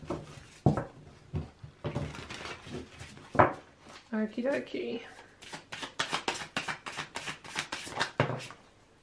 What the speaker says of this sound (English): Do one more big shuffle.